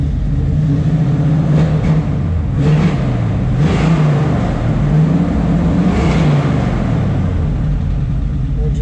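The V8 engine of a 1961 Chevrolet Corvette convertible rumbles steadily with a throaty dual-exhaust note, rising in a few brief revs over continuous loud low-frequency idling.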